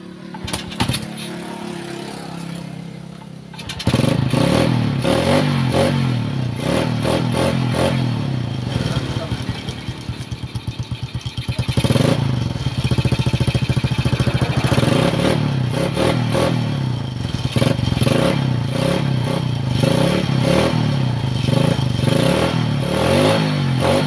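Honda XRM 110 motorcycle, idle for over two months after a fuel-to-carburetor fault, cranks and then catches, its single-cylinder engine running loud and close with an uneven, pulsing idle and occasional revs while someone talks over it.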